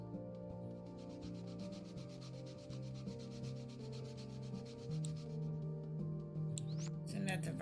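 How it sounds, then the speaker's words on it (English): Sanding wood in the video game Toy Tinker Simulator, a steady close rubbing scrape that runs throughout beneath tonal background music, with some talk near the end. "We're gonna sand all of this down."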